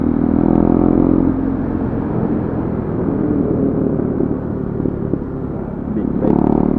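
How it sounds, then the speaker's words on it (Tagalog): A big motorcycle passes along a busy street during a New Year market, its loud, rumbling engine roar holding steady for several seconds before swelling again near the end, with crowd voices in the background. "Big bike."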